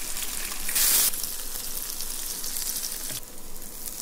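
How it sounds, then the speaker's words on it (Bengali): Onion, green chilli and coriander leaves frying in a pan for vegetable noodles, producing a dense, even sizzle that swells to a sharp hiss once, close and steady with no talking. "এখন আমরা পেঁয়াজ, মরিচ এবং ধনে পাতা দিব, একটু ভেজে নিই ভালোভাবে"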